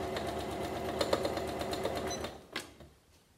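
A sewing machine stitches patchwork fabric with a steady, close mechanical whir and rapid ticking, a few louder clicks along the way, then it slows and stops near the end.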